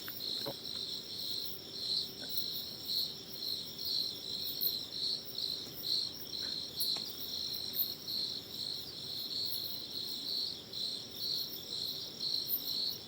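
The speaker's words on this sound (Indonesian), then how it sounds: "suara apa ya, kodok atau apa itu ya, jangkrik kali ya." Crickets chirp in a steady, pulsing high trill, fairly quiet and continuous, with a few faint clicks in the background.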